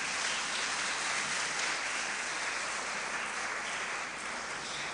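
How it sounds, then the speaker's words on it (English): Sustained applause from parents at a Lannamans Preparatory graduation ceremony, a steady broadband wash of many hands clapping at once, evenly loud across the whole stretch with no voices standing out. "Please give them a round of applause, parents."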